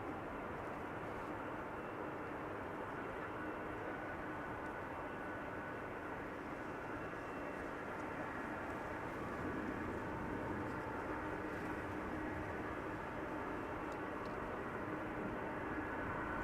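A DHL Airbus A300 cargo jet arriving at Amsterdam Schiphol Airport, a long, even engine roar that holds steady and swells faintly toward the end, heard alone without talk.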